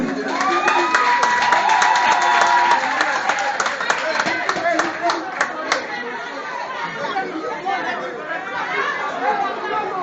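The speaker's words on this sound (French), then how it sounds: "Acclamez pour lui." A crowd in Cotonou chatters loudly with scattered clapping and cheering, the burst of applause strongest at first and then thinning into a dense murmur of voices.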